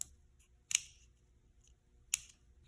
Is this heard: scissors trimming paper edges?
yes